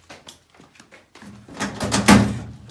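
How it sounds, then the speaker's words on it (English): A locked door on a Dodge Dart race car build is tried: a few quick, sharp clicks and knocks from the handle and latch, then a louder, longer rattle and thump as it is pulled harder, close up. "Door's locked"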